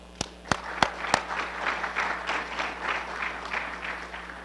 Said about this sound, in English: If you give them a round of applause